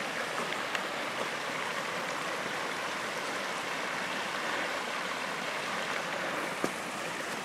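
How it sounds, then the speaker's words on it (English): A seasonal waterfall on a snowy hike pours in a steady, unbroken rush of water that holds a constant level throughout, with no voices over it. "This is a seasonal waterfall, I think."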